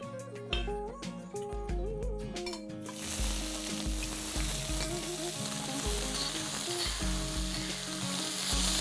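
Finely chopped onions saute in a pan with cardamom, cloves and peppercorns for a dhaba-style chicken curry, a steady sizzle under a melodic music bed that dominates throughout.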